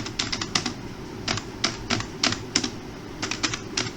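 Typing on a computer keyboard, quick clusters of light clicking keystrokes in short bursts with brief pauses, close and moderately quiet over a low steady background hum.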